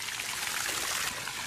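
Water gushes out of a hole as a continuous bright hissing rush with a splashing texture, close and steady throughout the short stretch.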